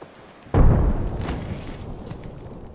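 A frag grenade blast in the Apex Legends video game: one loud, sudden boom that hits hard and then decays into a long rumbling tail, with no talk during it.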